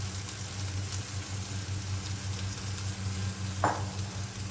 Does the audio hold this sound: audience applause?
no